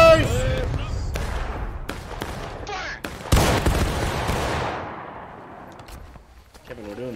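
A massed musket volley from line infantry in the War of Rights game cracks out as several sharp, loud reports in quick succession, with a big concentrated blast near the middle and a rolling echo dying away after it. Players shout in the background.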